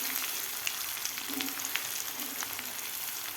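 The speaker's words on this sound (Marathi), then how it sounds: "आता वाटण आपल्याला व्यवस्थित परतून घ्यायचं आहे तेलामध्ये" Vatan spice paste sautéing in oil over a low flame, a steady close hiss of sizzling with faint soft pops and stirring, no talking.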